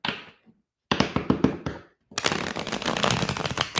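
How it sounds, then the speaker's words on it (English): Quick bursts of tarot card shuffling, a riffle of soft rapid taps after a short pause, then a longer continuous rustling shuffle, close and fairly loud. "One more shuffle."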